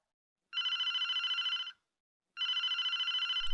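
A telephone bell rings twice in an office setting, each ring a loud, steady electronic trill lasting about a second, separated by a pause, with nothing else heard.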